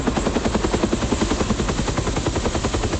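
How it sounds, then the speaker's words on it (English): A military helicopter, the personal aircraft Dynamite 6 of a 1972 Vietnam War general, flies with a loud, steady, rapid rhythmic thumping of rotor blades that runs unbroken throughout, with no voices. "General Holingsworth mounts his personal helicopter, Dynamite 6, and takes to the skies"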